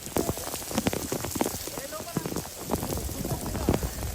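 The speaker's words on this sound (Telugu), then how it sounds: "చాలా వర్షం పడుతుంది" Heavy storm rain pours down close by, with dense pattering drops and irregular sharper splashes on a hard surface throughout, and faint speech now and then beneath the downpour.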